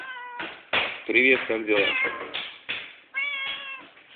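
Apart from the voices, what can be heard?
cat meowing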